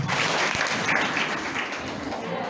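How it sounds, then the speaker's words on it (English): An indoor workshop audience claps together on cue, a dense burst of many hands that blurs into a steady wash of applause lasting a couple of seconds. "Clap once."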